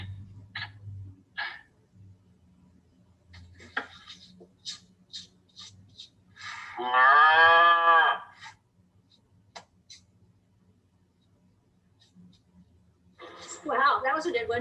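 A person imitates a cow mooing, one drawn-out, loud, wavering moo in the middle, with scattered quiet talk and clicks around it and a second shorter voiced imitation at the end.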